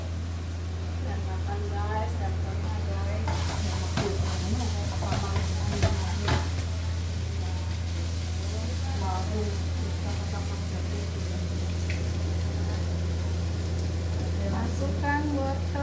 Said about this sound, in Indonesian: Tim masak sedang beraksi memasak bihun goreng istimewa.